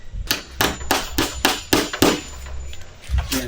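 A hammer strikes fence material at a small farm, landing roughly seven sharp, ringing metallic blows in an even rhythm, loud and close, with no voices.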